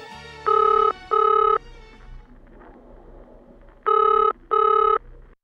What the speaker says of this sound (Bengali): চৌধুরী বাড়িতে ফোন বাজছে